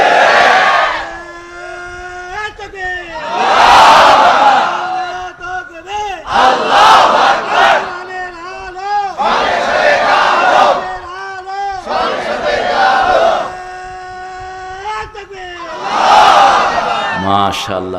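A large crowd at an Islamic sermon (waz) in Dhaka shouts the takbir chant in loud, repeated surges, each roaring burst separated by brief pauses, with a lone voice leading between them.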